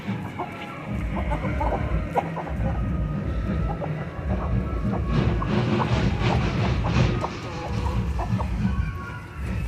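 Medak-breed chickens at a farm in Medak district, Telangana, cluck repeatedly in short, irregular bursts over a constant low background rumble.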